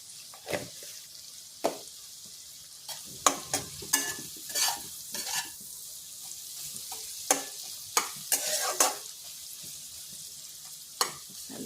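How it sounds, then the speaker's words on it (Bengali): Onions frying in a pan give a soft, steady sizzle, punctuated by a dozen or so sharp scrapes and clatters of a spoon stirring at irregular intervals, close and alone. "পেঁয়াজটা একটু ভাজা হোক"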